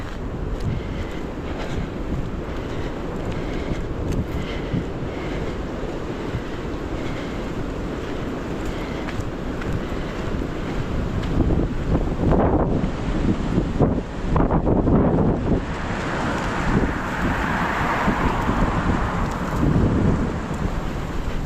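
Strong wind roars and buffets the microphone continuously on an outdoor walk among trees, swelling into louder gusts in the second half.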